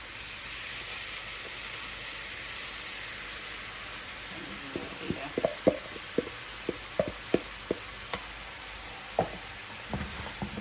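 Potatoes frying in a pan with steady low sizzle, joined midway by a series of sharp, irregular knocks and scrapes as they are stirred, fairly faint and without talk.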